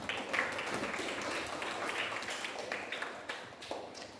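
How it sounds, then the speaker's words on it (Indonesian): A classroom of students applauds after a student's presentation, with dense, steady clapping that fades slightly toward the end. "Sekali kita berikan tepuk tangan untuk kamu"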